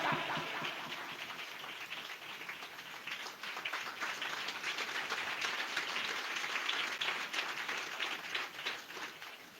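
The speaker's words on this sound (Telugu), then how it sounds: "కొట్టు చప్పట్ల గట్టిగా" Loud, sustained applause from an audience at a youth meeting, dense and steady clapping filling the whole stretch without a break.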